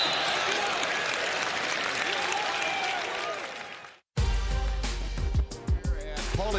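A college basketball arena crowd at Indiana roars in a loud, dense wash of cheering and applause, then it cuts off abruptly and gives way to a different, quieter mix with thumps.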